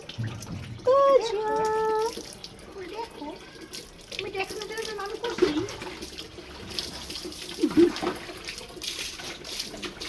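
Cold water runs and splashes steadily from a tap onto a child, with people talking over the flow.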